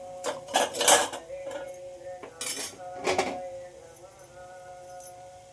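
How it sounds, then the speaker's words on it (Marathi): Metal clinks and clatters as a lid is set onto a pot, a few sharp rattles followed by a faint ringing hum. "तुम्ही बघू शकता मी आता इथं झाकण ठेवत आहे याच्यावरती"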